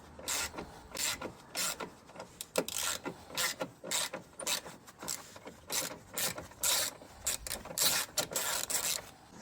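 Nuts being removed from a Chevrolet Aveo wheel arch liner with a ratchet, giving quick repeated clicking bursts in an irregular rhythm, close and fairly faint.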